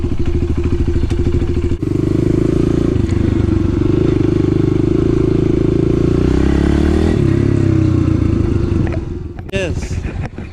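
A 2020 Kawasaki KLX110L dirt bike runs loud and close, with a steady throbbing engine note, a few clattering knocks and rising revs before it cuts out near the end.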